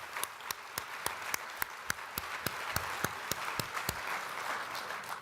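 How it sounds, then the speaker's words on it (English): Audience applauding the ambassador at a George Washington Carver Day event, a fairly quiet, sustained crowd patter with one nearby clapper beating out a steady, evenly spaced rhythm throughout. "Let's give the ambassador a round of applause."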